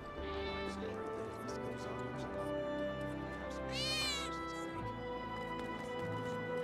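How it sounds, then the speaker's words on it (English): A cat meows once, briefly, inside the Final Fantasy VII Remake slums, a rising-and-falling call rising over steady game music and ambient background. "Hear that just now? I think one of Betty's cats might be nearby."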